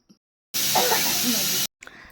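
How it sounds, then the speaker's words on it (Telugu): A kitchen pressure cooker, with onions cooking inside, lets out one loud, steady jet of hissing steam that lasts about a second before it cuts off abruptly. Brief faint sounds come just before and after it. "కుక్కర్ అయితే విజిల్స్ వస్తూనే ఉందండి"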